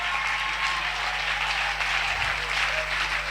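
A congregation at an intense prayer service led by Pastor SAM breaks into sustained applause, dense continuous clapping with crowd murmur and a low steady hum beneath, loud and even throughout.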